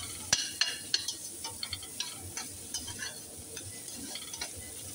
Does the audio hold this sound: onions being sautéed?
yes